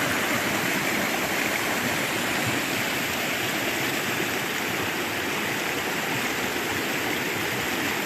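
River water rushing hard down the San Gabriel East Fork, a steady, loud, broadband roar of fast current with gurgling texture throughout, close by and unbroken, with no voices.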